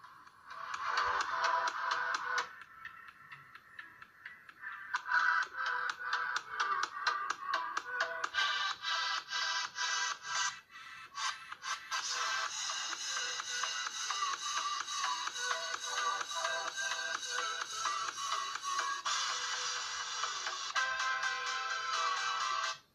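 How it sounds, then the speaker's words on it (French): Music plays steadily through the built-in speaker of a Vernee Apollo X smartphone, thin and tinny, with a brief dip near the start and again midway. "On va regarder ce que donnent les haut-parleurs intégrés du téléphone"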